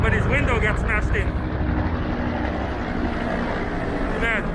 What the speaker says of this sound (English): There's some loud helicopters.